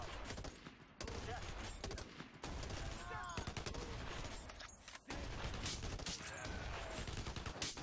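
Sustained bursts of cover gunfire in the Blackwater video game, dense overlapping automatic shots and fusillades, loud and continuous, with faint voices underneath.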